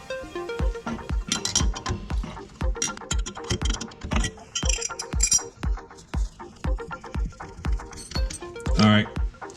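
A wrench loosening a Porsche 996 coilover gives a steady run of sharp metallic clicks and ratcheting clinks, close and evenly paced, with a brief scrape near the end.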